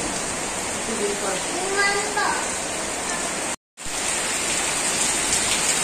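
Wind and rain wash over a small village in a loud, continuous roaring hiss, broken by a brief dropout midway, with a voice heard faintly beneath.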